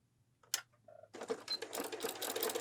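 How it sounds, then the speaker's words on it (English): A sewing machine stitches down the pocket on a fabric waist apron at normal stitch length, its fast, steady whirring running continuously after a couple of brief clicks and a pause, close and clear. "So go ahead, make your stitch length back to normal, and stitch your pocket down."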